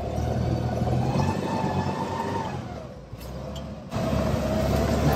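A Steyr Pinzgauer off-road vehicle's engine running roughly, dipping briefly, then picking up again with a louder, steadier drone as it pulls away, heard close with no talking.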